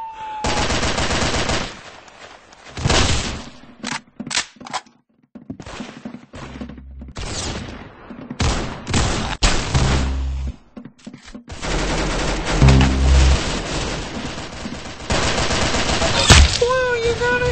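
Rapid gunfire in the Roblox video game, loud bursts of automatic shots and single cracks coming in clusters with short gaps, continuing across the whole stretch with a voice briefly heard among the shots.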